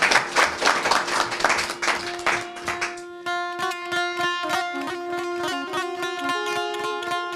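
Brief burst of audience clapping on an Azerbaijani TV program in Beylaqan fades within about three seconds, giving way to rhythmic folk music with plucked strings and steady percussion.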